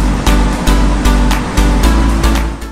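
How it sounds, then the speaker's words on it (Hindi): Waterfall plunging roughly 150 feet at Bhivtas on the Gujarat-Maharashtra border, a loud, close, continuous roar of rushing water with rhythmic surges. "ये वाटरफॉल शायद 150 फीट की हाइट से गिर रहा होगा।"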